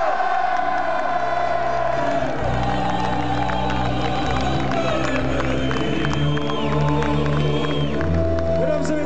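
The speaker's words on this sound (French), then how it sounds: "applaudissez, s'il vous plaît, les meilleurs supporters de Belgique!" A large outdoor crowd of Standard de Liège football supporters at Place Saint-Lambert in Liège celebrates the 2011 Belgian Cup win with a dense, loud, continuous roar of cheering, whoops and shouts, and scattered voices are mixed in throughout.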